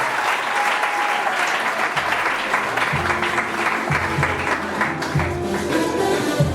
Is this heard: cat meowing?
no